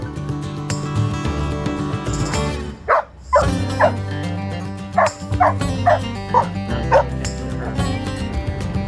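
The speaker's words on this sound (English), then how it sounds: "Golden Retrievers are very communal dogs, and they like to be part of the pack, and if they're not, they get upset." A golden retriever yips and barks in short bursts, with a few whimpers, over a steady bed of continuous background music or noise indoors.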